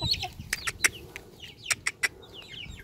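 Chickens cluck softly while eating cinnamon rolls with icing, a scatter of short close clucks and chirps in irregular bursts over a quiet background.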